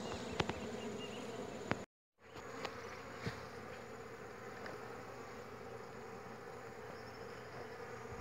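Apis honeybees swarm around a captured hive, a steady, close, continuous buzzing drone with a few louder passes of single bees near the microphone and a brief dropout early on.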